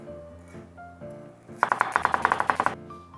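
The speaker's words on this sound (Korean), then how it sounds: "이걸 준비하는데 저의 칼질 소리들을 잘 들려드리겠습니다" Rapid knife chopping of pasta ingredients on a board, a quick burst of about a dozen sharp, evenly spaced taps, close and fairly loud after a quieter start.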